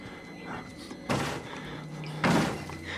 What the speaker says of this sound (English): banging on the goddamn door